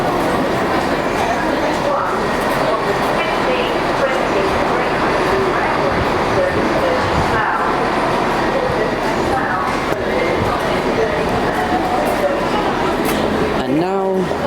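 A Great Western Railway train pulls out of Windsor station, its steady loud rumble and rail noise filling the whole stretch from on board, with people talking throughout.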